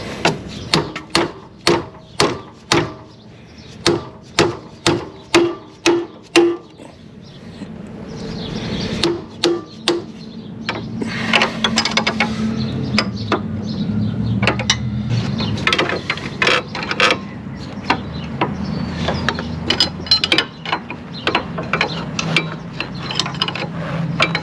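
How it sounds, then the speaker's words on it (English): Ratchet wrench loosening the bottom nut on a front suspension link of a 2005 Mercury Sable / Ford Taurus, a run of sharp rhythmic clicks followed by grinding and scraping of metal, close and fairly loud, with no talk. "Now I'll get this bottom nut off and break loose and get this link out."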